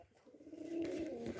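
Giribaz pigeons give a soft, low coo that swells over about a second, faint and fairly close against quiet room noise.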